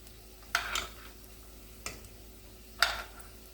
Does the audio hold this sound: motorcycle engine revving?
no